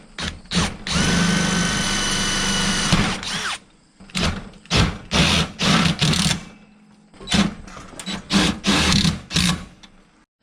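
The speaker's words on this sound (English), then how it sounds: "I'm gonna pre-drill our holes because we're going through aluminum and our steel tubing." A power drill pre-drilling holes through aluminum and steel tubing: one long sustained whine followed by a series of short bursts, loud and close, with no talk.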